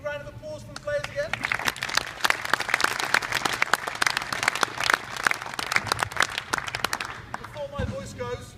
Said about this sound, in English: Big round of applause for the players again.